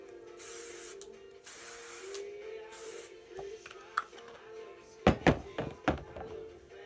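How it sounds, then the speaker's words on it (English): Hairspray sprayed onto a section of hair in several short hissing bursts near the start, followed by a few sharp thunks and handling knocks from close by. "Okay, so now I'm going to spray this section."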